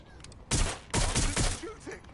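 Bursts of gunfire from the video game Watch Dogs: Legion, several loud volleys of rapid shots cracking back to back over about a second and a half, fading into quieter ambient game sound.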